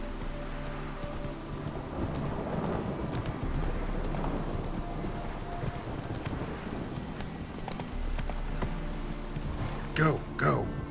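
Horse hooves clip-clopping at a steady rhythm from Roach, the horse in the video game The Witcher 3, running over continuous game ambience, with a voice speaking.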